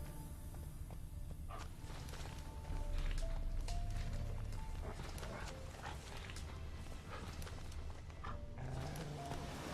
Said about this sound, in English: That's his horse.